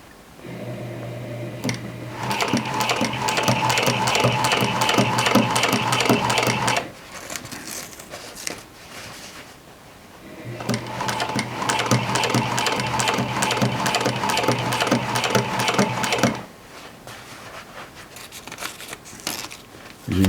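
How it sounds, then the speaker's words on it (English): A sewing machine winds its bobbin in two long, close bursts of fast whirring mechanical clatter, each lasting several seconds, separated by a brief quieter pause. "Winding the bobbin."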